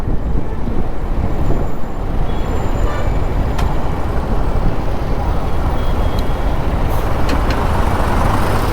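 Heavy truck rumbling past close by on a busy road near Nalasopara, recorded from a motorbike, with a steady broadband roar, wind buffeting and a brief hiss like an air brake.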